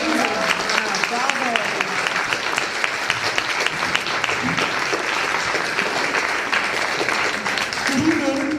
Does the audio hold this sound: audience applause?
yes